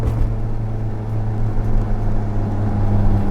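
Toyota AE86 engine with a 290-degree cam pulling uphill in third gear at low revs, a loud, steady, deep drone heard from inside the car.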